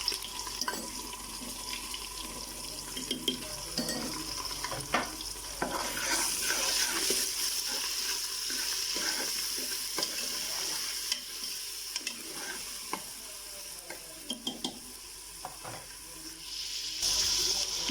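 Ginger paste goes into onions frying in a pot for beef nihari, sizzling steadily while a spoon stirs and scrapes with irregular clicks, close and continuous.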